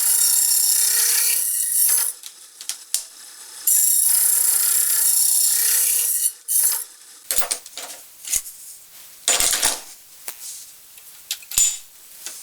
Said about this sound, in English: combined with this saw is the crown cutter, and as a combination, so that you get the trailing edge, the crown, and the leading edge cut all at once